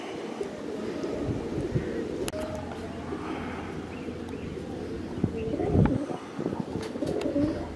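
A pair of pigeons coo in low, soft, repeated murmurs beneath steady outdoor background noise and occasional handling sounds, with a brief louder flutter near the end.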